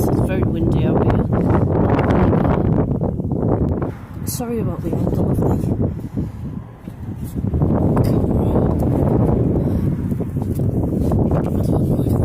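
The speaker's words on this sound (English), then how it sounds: "It's very windy out here." Strong wind buffets the microphone outdoors beside a Freedom caravan, a heavy roaring rumble that runs nearly throughout, dipping briefly midway, while a person talks over it.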